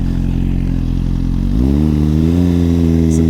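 A Suzuki GSX-R1000 motorcycle drops a gear, its steady engine drone jumping to a higher, louder rev partway through, heard up close on the road.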